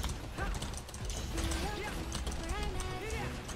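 Horse hooves clip-clop in the racing game Alicia Online, a quick rhythmic patter over mechanical game noises, with a person talking over it much of the time.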